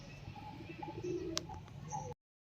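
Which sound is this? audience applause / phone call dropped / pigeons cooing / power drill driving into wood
pigeons cooing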